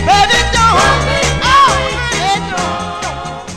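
1966 soul 45 playing on vinyl: a loud, full band groove with bass, drums and horns under a soaring lead vocal, steady and continuous.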